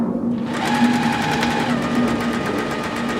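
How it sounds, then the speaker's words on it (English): A sewing machine stitches fabric in a fast, even mechanical rhythm, with a steady close whir and rapid needle clatter lasting the whole time and no talking. "So here I have my machine. I'm going to go ahead and sew."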